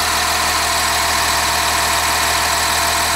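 Rear-mounted 8.3 liter Cummins diesel in a 1999 Blue Bird All American school bus, idling steadily with a close, loud, even rumble and clatter, no voices.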